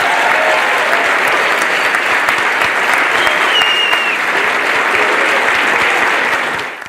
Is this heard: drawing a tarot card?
no